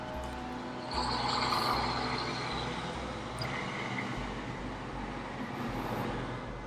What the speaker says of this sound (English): Give you the traffic noise there.